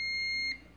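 One thin, high electronic beep from an Electrolux CM303 electric coffee maker, held about half a second and then stopping, quiet against a faint room hum.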